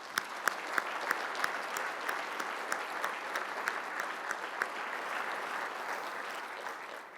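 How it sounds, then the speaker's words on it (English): A conference audience gives a quiet, distant round of steady applause, a few individual claps popping out sharply over the crowd's wash of clapping. "So please give yourselves a round of applause."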